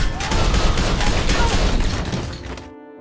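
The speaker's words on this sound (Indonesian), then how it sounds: "Brian harus berhadapan lagi dengan para anak buah Yuri hingga terjadi aksi tembak-tembakan." An action-film shootout: a dense, loud barrage of overlapping gunshots with thuds and shattering impacts, fading out abruptly at the end.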